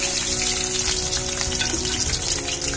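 Shrimp dropped into hot oil fry with a loud, steady crackling sizzle, close and continuous with no voices.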